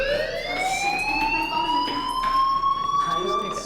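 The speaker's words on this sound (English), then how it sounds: "do you hear that fire alarm?" A school fire alarm in the video game Life Is Strange wails steadily throughout, its rising siren-like tones sounding loud and continuous while a voice talks over it.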